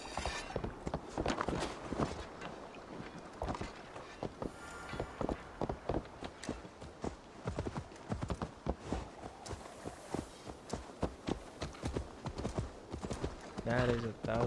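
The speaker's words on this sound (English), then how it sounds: "let's take my horse" A horse's hooves clip-clop in a quick, steady rhythm across the ground in the Assassin's Creed Valhalla video game, close and prominent, with game sounds and occasional talk mixed in.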